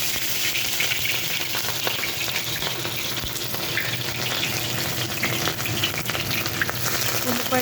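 Hot oil sizzles steadily in a pan with cinnamon pieces and green chilies, the first step of chicken fried rice, a dense, continuous close frying hiss with faint stirring.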